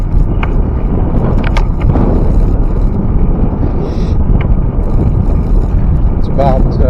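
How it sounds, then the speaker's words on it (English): Heavy wind buffeting a microphone during a ride along a grassy meadow trail, a loud continuous low rumble with gusty roar throughout; faint voices briefly audible beneath it. "I'm not even going to bother talking when we get blasted with the wind"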